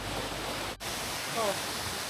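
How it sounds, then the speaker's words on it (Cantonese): Sendang Gile waterfall on Lombok, Indonesia, gives a steady, loud broadband roar of falling water that fills the whole clip without pause, with a faint voice briefly audible underneath. "瀑布就喺前邊啦"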